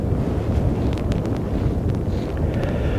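Strong wind buffets the microphone in a constant roar at a fishing lake, with faint patters of rain mixed into the gusts.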